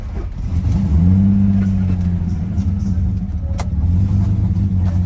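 A car with a broken exhaust revs hard, its engine rising into a loud, rough, blatty roar, easing, then climbing again, close by and dominant throughout.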